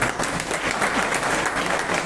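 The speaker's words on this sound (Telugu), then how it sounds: "కాబట్టి చప్పట్లు మోగుతుంది" An audience at a spiritual discourse breaks into brief, steady clapping, a dense wash of applause sustained evenly throughout.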